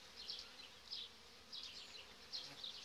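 Honeybees from a gentle colony in an open hive, handled without smoke, buzzing faintly and close by, with a soft continuous hum and brief louder passes as individual bees fly near.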